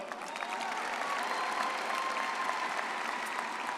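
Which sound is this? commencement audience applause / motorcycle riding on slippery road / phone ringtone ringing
commencement audience applause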